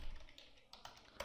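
Quiet computer keyboard typing, a few soft scattered key taps in quick irregular succession, close and faint, with no talking.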